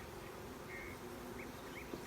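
Honeybees in a nuc hive give off a faint, steady buzz throughout, with a few louder individual bees drifting past close by.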